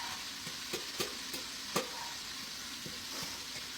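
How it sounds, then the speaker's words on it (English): Onions sizzle in a frying pan in a steady, hissing crackle, with occasional scraping clicks of stirring punctuating the continuous fry. "I'm just going to pop my onions in there."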